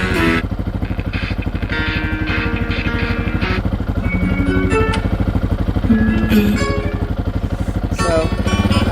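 A motorcycle engine running in gear rumbles steadily and loudly up close, a constant low drone with a faint clatter and music playing over it.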